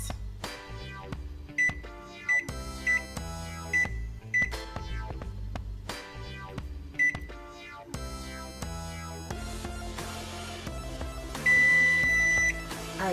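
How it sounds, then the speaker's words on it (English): A kitchen oven timer beeps as tea cakes finish baking, with short repeated beeps scattered over steady background music and one longer sustained tone near the end. "Our tea cakes are ready."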